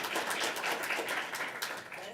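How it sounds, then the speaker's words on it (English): Sustained applause from a crowd at a school board meeting, a steady wash of clapping that holds at an even level throughout. "keep the applause going"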